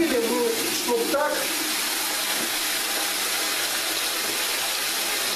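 Tap water gushing into a bucket, a steady broad rush filling the clip, with a few short voice sounds near the start.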